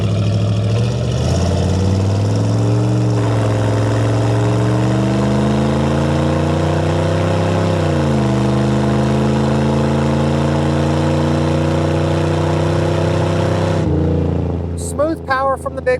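A 1990 Chevrolet 454SS pickup with a 454 big-block V8 and Turbo 400 automatic pulls hard on a test drive. The loud, continuous engine drone climbs in pitch, drops at a clean upshift, then settles into a steady cruise.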